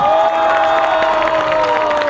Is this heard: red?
no